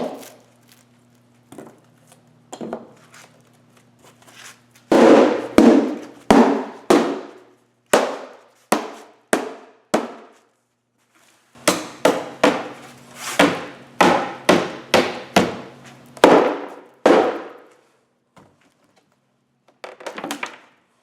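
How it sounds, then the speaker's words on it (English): A rubber mallet knocks wedges repeatedly to free a fibreglass dashboard from its mould, in uneven bursts of sharp thuds, with a low hum underneath and brief pauses between groups of blows. "We use the rubber hammer and wedges."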